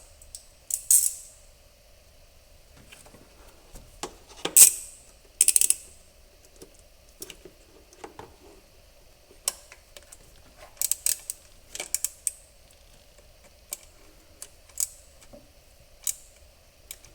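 Tightening fasteners on the distributor of a 1979 Porsche 928: sparse clicks and short metallic ratcheting bursts from a hand tool, spread out with quiet gaps, close and fairly soft.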